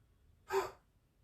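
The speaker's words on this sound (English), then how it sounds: "Breathe in. Breathe out." One soft, breathy exhale, close and quiet, lasting about a third of a second during a qi gong breathing practice.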